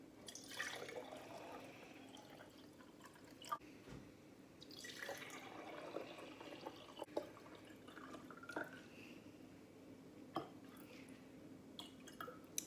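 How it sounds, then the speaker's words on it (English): Water is poured into several cups and jars, with quiet trickling, dripping and splashing in bursts and light knocks of glassware, faint and close in a quiet room. "So I'm going to put water into all the cups, all the jars."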